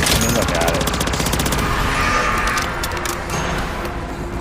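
Rapid bursts of Ram 9 SMG fire in a shooter video game, a fast rattling stream of shots that fades into scattered fire, with a voice talking over it.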